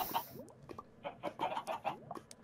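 Chickens cluck in a Minecraft game, with a string of short, close clucks in an uneven rhythm and small gaps of quiet between them. No voices are heard.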